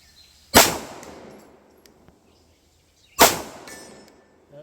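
Two sharp pistol shots from a Fusion XF PRO fired at a 100-yard target outdoors, each a loud close crack with a short decaying ring, about two and a half seconds apart.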